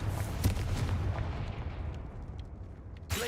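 Confringo fire spell in the video game Hogwarts Legacy, a deep booming blast that rumbles and fades over a few seconds, followed by a sharp new burst at the end.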